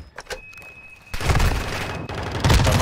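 Heavy gunfire erupts in a Call of Duty DMZ ranked match, a quieter patch of shots giving way after a second to sustained, loud, dense bursts and booms that keep building to the end.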